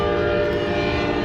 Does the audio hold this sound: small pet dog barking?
no